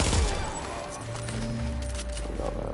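Gunfire in The Division, a third-person shooter game, played on PS5: a dense rattle of rapid shots runs throughout at steady loudness, with a low rumble underneath and no talking.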